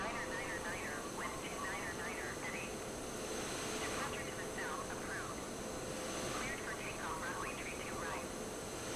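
A Microsoft Flight Simulator airplane's engine drones steadily through a takeoff, a constant mid-level roar with a high whine on top, while a voice talks over it throughout.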